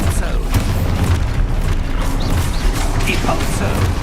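Booming blast of the Expulso spell in Hogwarts Legacy, a loud, dense rumbling explosion with crackling debris filling the whole clip, voices faintly mixed in with the din.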